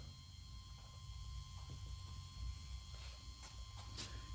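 Nuts are tightened onto an aluminum hub mount, with faint, quiet ratchet clicks in short bursts over a steady low background hum.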